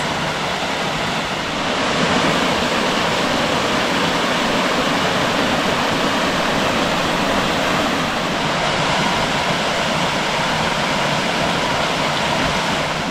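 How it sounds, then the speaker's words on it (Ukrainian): A small waterfall on the Vyshovatyi stream pours in a steady, loud, unbroken rush of water that hardly changes from start to finish, with no one talking. "А це ще один маленький, вишуватий водоспад."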